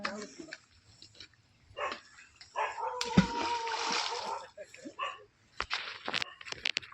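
Dogs bark and yip near water where fish are being caught, in scattered bursts with splashing between them, while a person talks nearby.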